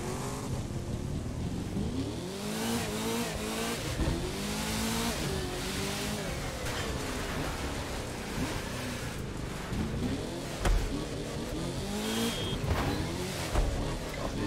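A drag car in The Crew 2 racing game revs and accelerates with a rising, shifting engine whine, steady and prominent throughout, with occasional tire and traffic noise mixed in.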